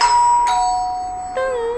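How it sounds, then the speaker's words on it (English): A doorbell sounds its two notes, high then low, ringing clearly; another chime starts just before the end. "For example, if you hear this doorbell,"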